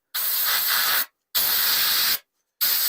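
An airbrush sprays paint onto a motorcycle helmet in three loud, close bursts of steady hiss, each lasting about a second, separated by brief silences.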